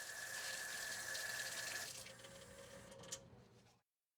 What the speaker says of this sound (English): rinse your hands with lots of running water